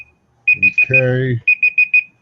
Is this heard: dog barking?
no